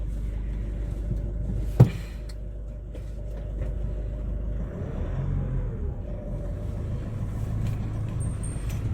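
A car drives along a rural road in Thailand while fetching a water pump, giving a steady low engine rumble and road noise throughout with one sharp knock early on, no talking.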